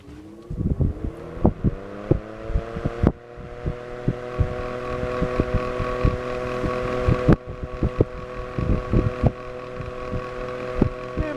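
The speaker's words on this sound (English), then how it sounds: "Really moves a nice amount of air for a small fan." A vintage Vornado table fan, model 16C2-1 with 6-inch blades, runs on high speed with a steady droning hum, overlaid by repeated thumps and knocks as it is handled near the microphone.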